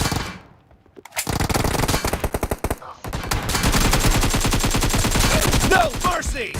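Detroit: Become Human gunfire: a rapid rattle of automatic fire starting after a brief lull, then dense, sustained volleys of loud shots overlapping with more bursts, close and intense.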